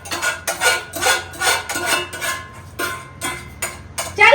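Stacked metal pots and dishes clatter in a home kitchen, with repeated sharp clanks in irregular bursts, close and fairly loud, with no talking.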